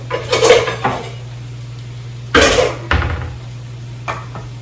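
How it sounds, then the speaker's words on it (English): Clattering of cans, a metal colander and utensils in a home kitchen while canned black beans and corn are drained and rinsed, in a few sharp bursts close by with quiet gaps between. "now I'm just gonna get the black beans and corn all drained and rinsed"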